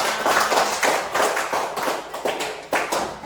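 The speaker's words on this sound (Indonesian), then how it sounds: "tepuk tangan untuk semua" A group of people clap their hands together in a classroom-style gathering, uneven bursts of claps rising and falling in loudness, close and fairly loud with no talking.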